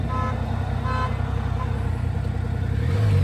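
Several short horn honks from a triggered truck alarm ring out at an even pace, then stop, leaving a heavy, steady low rumble that swells toward the end, near a shop with a CFMOTO UTV dyno.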